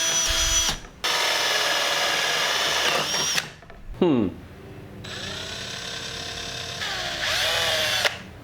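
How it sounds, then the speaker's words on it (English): A power drill drilling wood whines in loud, sustained bursts, stopping and restarting several times, with brief pauses and a short clatter between runs. "Maybe I'll drill a hole for the bit"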